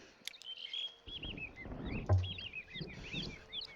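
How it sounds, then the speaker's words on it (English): Birds chirping and tweeting in a lively cluster of short, bright calls, moderately close, over soft background rustling. "I like the birds though, so I'm going to try to keep those a little bit louder."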